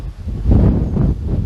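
Wind blows outdoors in spring among oak trees, a continuous low rumbling gust buffeting close to the microphone and swelling midway through.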